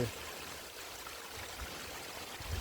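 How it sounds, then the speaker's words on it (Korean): A mountain valley stream spills down a small waterfall in forested land, making a steady, even rush of falling water that holds without a break throughout. "물 떨어지는 소리."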